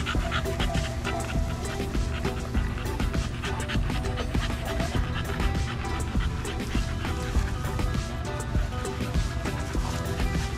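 American Bully puppies and adult dogs in an indoor garage kennel pant, yip, whimper and bark in a busy, continuous tangle of close dog noise, with occasional human voices mixed in.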